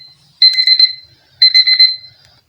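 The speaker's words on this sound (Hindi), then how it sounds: "ये कौन सा अलार्म गलती से पता नहीं कौन सा लग गया" An alarm goes off by mistake with two short bursts of bright, high electronic beeping, each lasting about half a second and set apart by a brief gap. It is loud and clear over near silence.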